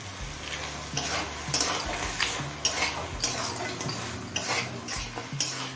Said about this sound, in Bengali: এবার ভাজা বড়িটা দিয়ে দিচ্ছি